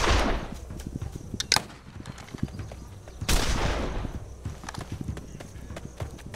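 In the game This Land is My Land, two heavy gunshots crack out a couple of seconds apart amid rhythmic horse hoof clopping and other scattered in-game noises.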